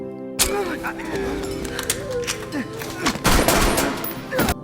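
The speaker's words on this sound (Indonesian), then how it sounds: "Kemudian Ed menembak seorang peneliti yang menolak bekerja sama." Bursts of gunfire from a film action scene, rapid shots in quick succession and heavy impacts, loud and close, mixed with other movie sound effects.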